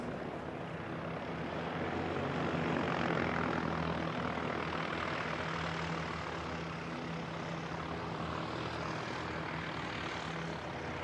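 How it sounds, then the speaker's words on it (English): An ATR turboprop airliner arrives at Christchurch Airport with a broad, steady propeller and engine roar. The roar swells to a peak a few seconds in and then holds at a fairly loud level. "Another ATR inbound from Tauranga"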